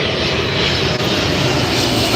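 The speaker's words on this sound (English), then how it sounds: "One of a kind kind of jet, only flying one in the world" A MiG-17PF jet fighter, the only flying example in the world, passes at an airshow near LAX, a steady loud broadband engine roar with no pauses.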